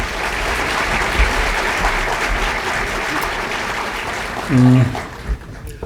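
An audience at a public event in Korea applauds to welcome a minister, a loud, sustained burst of many hands clapping, with a brief voice cutting in near the end.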